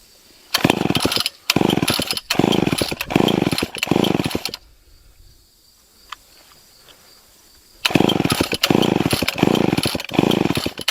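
A chainsaw roars in loud bursts, revving and pulsing, then drops to near silence for a few seconds before roaring again.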